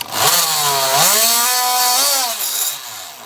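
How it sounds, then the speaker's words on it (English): A power tool fitted with a rigid scraper bit grinds against mortar during a kitchen renovation, a loud close buzzing whine that rises and dips in pitch for about three seconds, alone without speech. "It's called a rigid scraper, and it's supposed to scrape away at the mortar."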